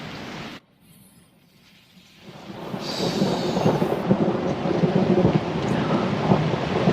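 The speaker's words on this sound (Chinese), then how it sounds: "这么大雷声不怕吗？" Loud thunder rolls through a heavy rainstorm. After a brief hush, a deep rumble builds into a sustained roar with pattering rain throughout, and no voices.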